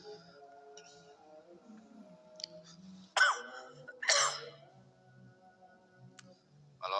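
A couple of short, sharp coughs stand out in a quiet room with faint background sounds, spaced about a second apart.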